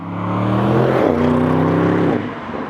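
An Audi RS6 Avant's 4-liter TFSI V8 biturbo engine with mild hybrid system revs loud and close, a deep droning roar that climbs, dips briefly midway and then holds steady before easing off.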